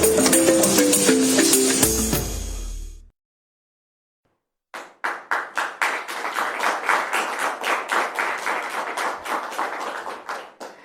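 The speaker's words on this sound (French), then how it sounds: "Les applaudissements sont des applaudissements nourris" Studio audience applause at a Christian broadcast, a dense burst of rapid clapping that rises after music and a brief silence, loud and sustained.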